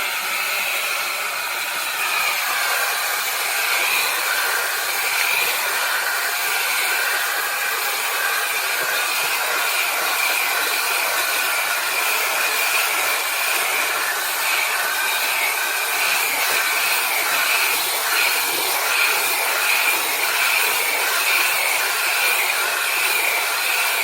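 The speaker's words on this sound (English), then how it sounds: "I'll just push that with my foot and do the hot steam." A Bissell 1806 steam mop steams tile grout, producing a steady, unbroken hiss of hot steam that runs loud and even throughout, with no talking.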